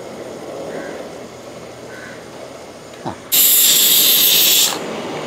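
Beef liver frying in a pan as the flame is turned up, with a low background of cooking noise, then a loud, sudden burst of hissing sizzle that lasts over a second before dropping back.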